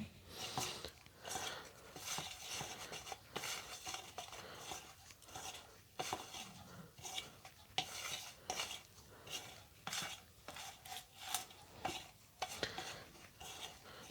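Fishing bait being mixed with ant eggs in a bowl, giving a steady run of scraping, clinking stirs with a repeated rhythm, close and fairly quiet, with no talk.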